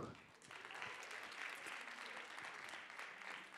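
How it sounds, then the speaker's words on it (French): Audience applause at a student theatre showcase in France, sustained steady clapping from a crowd in a hall, fairly even in loudness throughout. "Jean-Pierre Thomas, qu'on peut applaudir"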